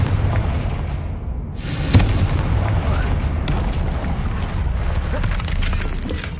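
Booming magical blast from the Confringo fire spell in Hogwarts Legacy, a loud sustained explosive roar with a sharp burst near the two-second mark and a rumbling tail.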